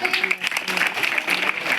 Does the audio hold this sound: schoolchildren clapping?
yes